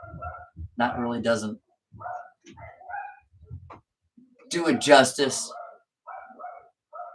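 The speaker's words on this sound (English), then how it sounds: "Sorry for the barking dogs." Dogs barking and yipping in short bursts, with someone speaking between them; the barks come in two clusters, the second louder and closer.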